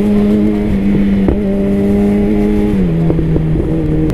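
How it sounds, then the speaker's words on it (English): A motorcycle engine drones steadily close by while riding, with a few sharp exhaust pops and cracks breaking through the hum. "She's so fucking vicious with those pops. You might call it a motorcycle, but I call it a fucking handgun."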